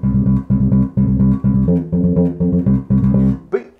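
Bass guitar playing a disco electro groove over a Christmas song, steady punchy repeated notes in short bursts, close and loud, ending with a brief slide.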